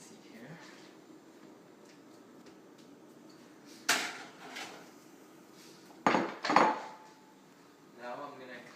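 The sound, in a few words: eggs dumped into pan, pan clattering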